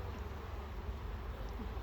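Honeybees hum steadily at the entrance of a hive, a continuous low insect drone lasting the whole moment with no voices over it.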